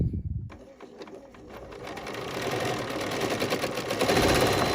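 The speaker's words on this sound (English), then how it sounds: "So I'm going to press my thread cutter and maybe come back to this one." A sewing machine working on a wishing tree ornament, with a brief low mechanical thunk of its thread cutter at the start, then a steady, close whirring and rapid stitching hum that grows slightly louder, with no voices.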